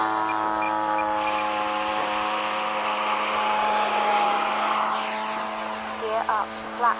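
An FMS 70mm electric ducted-fan F/A-18 RC model jet roars steadily through its takeoff run, a sustained whine with strong tonal harmonics holding loud and near, with brief voices and bumps near the end.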